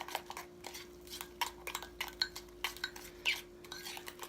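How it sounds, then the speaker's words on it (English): Spoon stirring keto chocolate brownie mug cake batter, quick clinking and scraping strokes against the mug in an irregular rhythm, close and fairly quiet. "what I try to do is get all the lumps out, just to make sure that it's all stirred up real nice and even"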